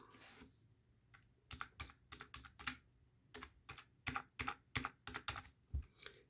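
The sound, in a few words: typing numbers into a calculator or computer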